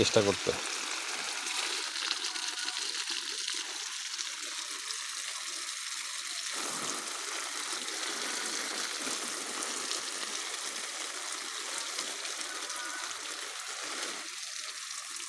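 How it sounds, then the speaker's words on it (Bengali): Water from a mud pump pours steadily onto the bases of mulched coffee plants in a garden, a continuous close rushing splash lasting throughout. "এগুলোর গোড়ায় পানি দিচ্ছি"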